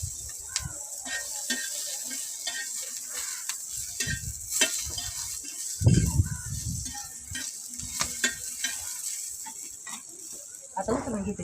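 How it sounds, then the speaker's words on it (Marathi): Brinjal fries on a griddle over a wood-fired stove, a soft sizzle with scraping and stirring clatter. A voice talks intermittently over the cooking. "आता वांगी टाकते"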